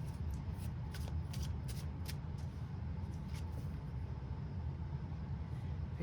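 Tarot cards are shuffled and dealt onto a surface in soft, scattered flicks and slaps, faint and close against a steady low room hum, with no talking.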